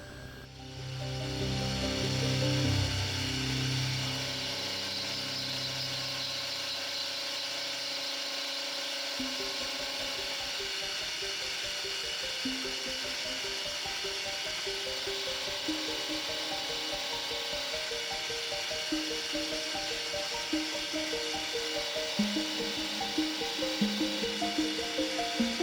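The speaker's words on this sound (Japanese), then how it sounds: "溝はエンドミルで削っていきます。" Machining a part for a live steam locomotive, with an end mill cutting grooves. A low rumble opens, then a steady metallic rasping grind and rapid chatter carry on for over twenty seconds with no voices.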